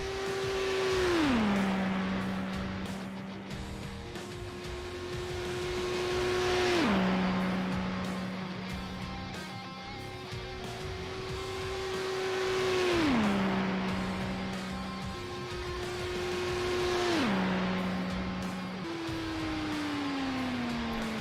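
An IndyCar race car in a racing video game lapping Las Vegas Motor Speedway, a steady high engine drone with repeated upshifts and pitch drops, swelling and easing on each pass, with no talk.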